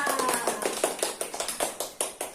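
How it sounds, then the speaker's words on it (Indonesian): Students in a classroom clapping in a quick rhythmic pattern, a series of sharp claps in distinct groups, fairly close and moderately loud. "Tepuk tangan dulu untuk kita semua."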